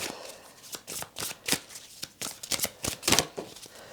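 Earth Magic Oracle cards being shuffled by hand, a close series of crisp riffling and slapping bursts in an uneven rhythm, with no speech.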